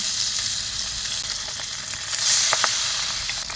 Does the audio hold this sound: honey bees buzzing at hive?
no